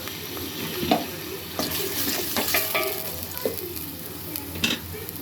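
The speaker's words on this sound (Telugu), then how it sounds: "ఆయిల్లో ఈ ముక్కలు ముందు బ్రౌన్ కలర్ వచ్చేలాగా వేసుకున్నాం." Pieces of food frying in hot oil until browned, with a steady close sizzle, occasional stirring scrapes and a few louder crackles, and no talking.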